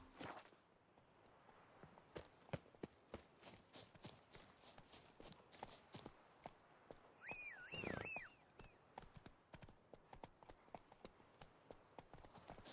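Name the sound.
horse Roach's hooves in video game Witcher 3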